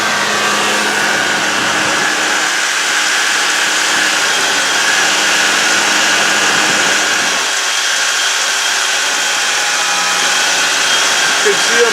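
A single induction motor runs alone, a steady electrical hum and whir held at an even level for the whole stretch, close by with no talking.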